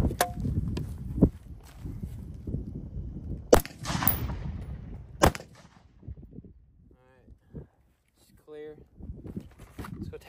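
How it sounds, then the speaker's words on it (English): Rifle shots from a .50 BMG and a .45-70 strike a steel brake drum outdoors, with several sharp loud cracks and impacts spread over the span amid background rustle and brief voice sounds. "it definitely took a chunk of steel out right there. That was the first time I shot, and that was the second time I shot."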